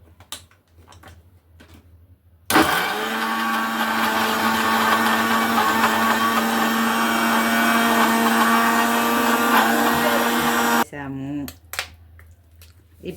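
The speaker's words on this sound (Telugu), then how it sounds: "వేసుకొని మిక్సీ పెట్టుకుందాం" A mixer grinder blends amla with tamarind juice for pickle, roaring loudly and steadily for about eight seconds before stopping, with quiet voices and kitchen clatter before and after.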